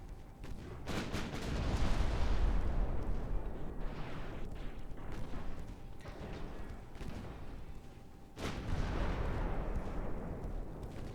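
Naval gunfire in Ultimate Admiral Dreadnoughts, deep booming salvos rolling into a long rumbling wash, with a fresh heavy blast landing later over the continuing low roar.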